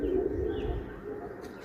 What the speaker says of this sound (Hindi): कबूतर पटपटा रहे हैं।